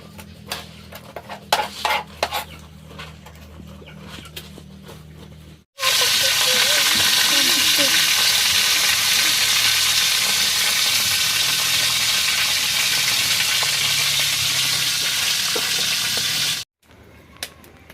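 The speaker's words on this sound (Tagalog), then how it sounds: "Nagpiprito siya ng isda." Loud, steady sizzling of fish frying in a hot pan, preceded by a few seconds of clinking utensils and kitchen clatter.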